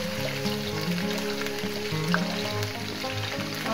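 Ginger garlic paste, about two tablespoons each, frying in hot oil for a restaurant-style Shinwari dumba karahi, giving a steady, close sizzle and crackle that continues without a break.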